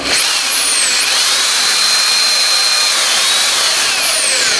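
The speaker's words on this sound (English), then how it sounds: "Make sure you got your hole saw chucked up nice and tight." A drill spins a hole saw through a 55-gallon food-grade plastic barrel, a loud steady high-pitched motor whine with a couple of pitch shifts, close up and with no voices.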